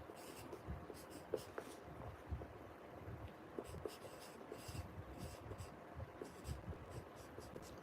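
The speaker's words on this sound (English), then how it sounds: "So I'm just going to write in capitals" Pen writing in capital letters on paper, a soft scratchy scrawl of short strokes, close and quiet, with no one speaking.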